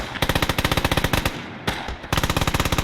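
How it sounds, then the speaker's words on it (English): A World War 1 machine gun in the Gates of Hell game fires loud, rapid bursts of sharp shots, pausing briefly before the stuttering rattle resumes, with no talk. "Look at the MG firing."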